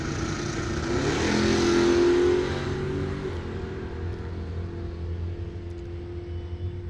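Drag race cars, a '78 Malibu and an '88 Mustang with 302 Ford power, launching at a bracket racing dragway; a swelling engine roar peaks early then fades into a steady distant drone.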